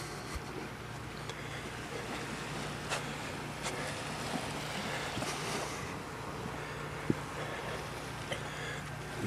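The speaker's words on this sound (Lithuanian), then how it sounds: "Ir Atlanto vandenynas." Atlantic Ocean waves wash onto a white sand beach in a continuous, fairly distant surf roar, mixed with gusts of wind buffeting the microphone.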